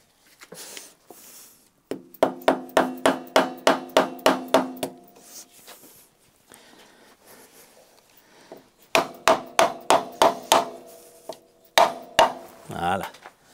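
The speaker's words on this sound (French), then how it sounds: "si je tapote et que je tire, il doit partir tout seul" Metal tool tapping on a stuck Ducati clutch cover to loosen it, sharp close ringing knocks in quick rhythmic bursts of about a dozen strikes, a pause, then another run of taps.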